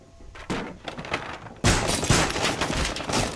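Rainbow Six Siege gunfire in a Club House hostage match: a burst of rapid shots that swells into a dense, loud barrage in the second half, with sharp impacts and clatter continuing throughout.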